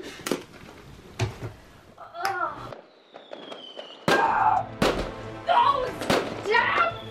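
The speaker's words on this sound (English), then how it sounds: "Oh, fireworks again." Fireworks burst at night in a series of sharp bangs and crackles, some loud and close, with whistling and fizzing between the blasts and voices speaking in the gaps.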